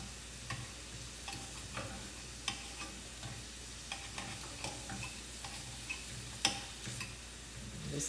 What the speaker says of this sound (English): just flipping them over and let them cook on that other side